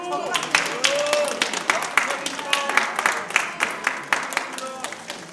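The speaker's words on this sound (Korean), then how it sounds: "박수" Applause rings out from a congregation during a Sunday church service, a sustained patter of hands clapping with sharp individual claps standing out, while voices talk over it.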